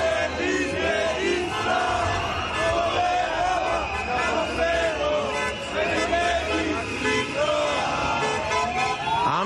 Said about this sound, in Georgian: შეძახილებით მიდიან მოქალაქეები რუსთაველის გამზირისკენ